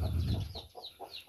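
Chickens cluck close by in a short burst of several quick clucks around a coop.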